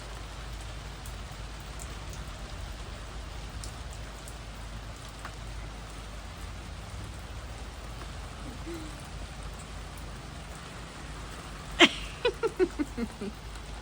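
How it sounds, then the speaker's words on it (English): Steady spring rain patters on surfaces in Oregon, a soft constant hiss throughout, with a short series of owl-like hoots near the end and no talking. "Spring rain. That's what Oregon's all about."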